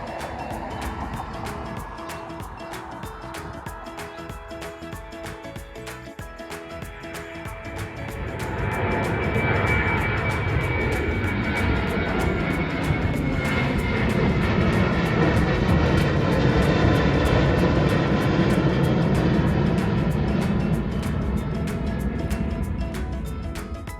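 An airplane is heard in one continuous, fairly loud passage, with a steady broadband roar that grows stronger about a third of the way in and holds until the end, with no talking.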